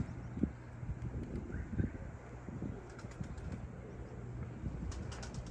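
Young pigeons are flown from a rooftop loft, with soft wing flaps and a few faint bursts of flapping over light wind and distant background noise.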